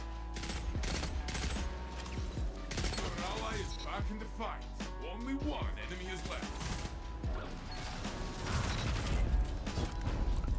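Rapid bursts of pulse rifle fire in the Destiny video game, repeated clipped volleys over busy game noise and mechanical clatter, with a voice talking now and then.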